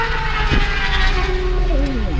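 Motorbikes speed past on a road, a loud continuous engine roar with rising and falling whine tones as they pass close by, sustained throughout.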